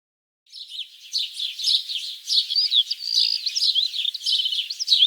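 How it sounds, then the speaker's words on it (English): Bright, rapid birdsong chirps and trills continuously after a brief silence, fairly close and lively, with no other sounds. "I've always been fascinated by birds, something about them being able to fly and the sounds they make."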